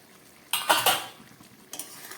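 A lid lifted off a pot of simmering pumpkin curry, with a bright metallic clatter and scrape, a short pause, then a second lighter clink as it is set down; close, with no voices.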